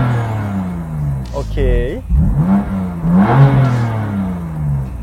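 BMW M2 Competition engine in Sport Plus mode blipped a few times from a standstill, sharp rising and falling revs close by, with a person speaking briefly between them.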